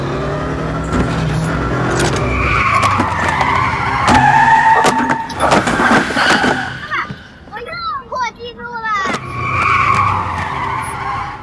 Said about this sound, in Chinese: 油门踩到底。